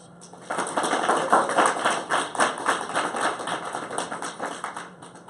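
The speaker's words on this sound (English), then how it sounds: "let's give all of the speakers a round of applause" A conference audience gives the speakers a round of applause at a women's conference, with light, scattered clapping of moderate volume that rises quickly, holds for several seconds and begins to thin out.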